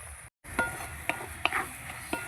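Rice flour being stirred into a thick coconut kheer for pitha, heard as soft, close scraping and sloshing with a few light clinks, after a brief cut to silence.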